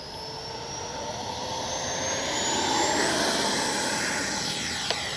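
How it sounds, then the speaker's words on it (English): A small RC L-39 model jet spools up for takeoff from a grass field, its turbine whine climbing steadily in pitch and loudness, then holding a high rushing roar, close by with no talking. "Our grass is a bit much to try to take off this small of an airplane right now."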